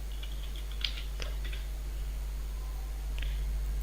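Light keyboard typing on a computer, a few soft key clicks in short bursts over a steady low hum, faint and alone.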